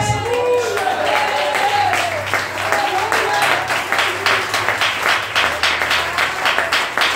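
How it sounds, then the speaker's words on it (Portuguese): A church congregation applauds the name of Jesus during a Thursday service, with loud, steady rhythmic clapping across the room and a voice heard over it at the start. "Quem crê nisso, aplauda o nome dele."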